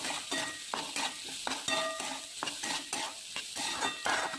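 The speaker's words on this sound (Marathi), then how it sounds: "याच्यामध्ये शिजवून घेतलेला बटाटा टाकून घेतला. तो चांगला परतून घ्यायचा." Boiled sweet potato pieces sautéing in a pan give off a steady, close sizzle, broken by repeated scraping stirs of a spatula, with no voices.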